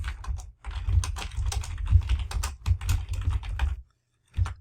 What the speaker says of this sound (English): We're going to type in our description.